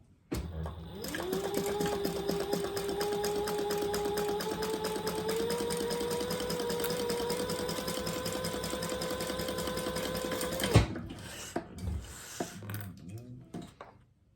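A sewing machine runs top stitching along a slip pocket on a purple purse at a long stitch length, humming steadily for about ten seconds before stopping abruptly, followed by a few faint handling sounds.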